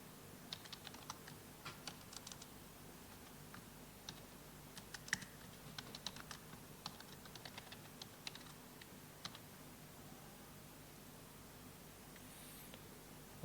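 Typing on a computer keyboard while entering text in GIMP: soft, quick key taps in irregular bursts, faint and close, with no voices.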